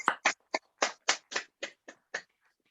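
Nine or ten distinct hand claps, fairly close and evenly spaced, from a small group or single person applauding webinar speakers, with no talking over them.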